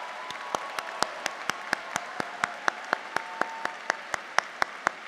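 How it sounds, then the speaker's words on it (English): Applause from the audience at a law school commencement ceremony, steady crowd clapping with a few loud individual claps standing out in an even rhythm close by, continuing for several seconds. "let's give all of our loved ones a rousing round of applause to show them your gratitude"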